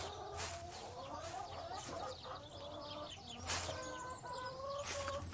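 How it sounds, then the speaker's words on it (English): Hens clucking in a barn, busy overlapping bird calls with a steady low hum beneath, moderately loud and continuous throughout. "Just keep a lookout for our silly hens."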